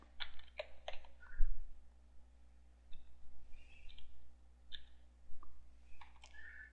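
Keys on a computer keyboard clack in short bursts as a password is typed, close and fairly quiet, with brief pauses between the clusters of taps.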